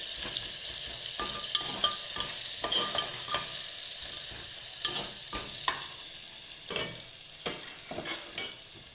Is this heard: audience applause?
no